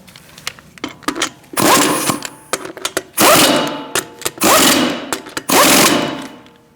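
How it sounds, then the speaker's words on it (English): A power tool with a 19mm socket runs tightening the wheel lug nuts on a 2016–2019 Chevrolet Cruze in a crisscross pattern, in four loud whirring bursts broken by short clicks and pauses, close by. "Now you can tighten them in a crisscross manner."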